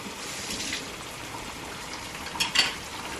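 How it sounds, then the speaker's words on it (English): Garlic, hot pepper and curry paste fry in oil while being stirred, a steady close hiss with a couple of brief scraping bursts near the end. "we're just going to stir this around and cook it until the oil releases back from the spice mixture and it's dry and grainy"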